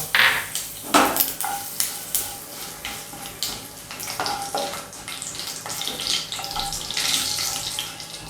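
Mustard seeds crackle and spit in hot oil for a tempering, with repeated sharp sizzling bursts over a continuous frying hiss, close by and with no one speaking.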